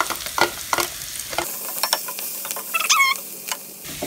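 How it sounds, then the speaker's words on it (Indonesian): Shallots and garlic sautéing in a pan for an Indonesian semur, a steady sizzle broken by several sharp stirring scrapes and clinks, close and alone with no talking. "Saya masukkan bawang merah dan bawang putih tadi untuk saya tumis bersama"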